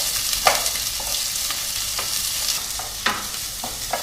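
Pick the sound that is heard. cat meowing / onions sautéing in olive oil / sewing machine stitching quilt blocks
onions sautéing in olive oil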